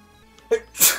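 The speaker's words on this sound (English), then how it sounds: "Apologies for the sneezing" Sneeze from a person playing an online Pokémon card game, two quick bursts: a short catch of breath followed by a loud, hissy release close to the microphone.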